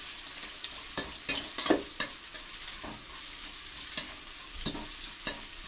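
Bitter gourd fries in a pan with a steady, bright sizzle, while a spoon stirs and scrapes it against the pan in occasional sharp clinks and knocks close by.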